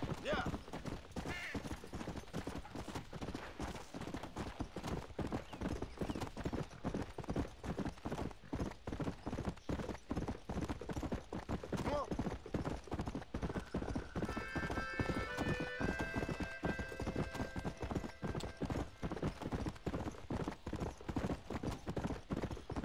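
Horse hooves clip-clop steadily throughout in the Red Dead Redemption video game, a continuous rhythmic trot at moderate loudness, with brief whinnies and game music tones layered over it.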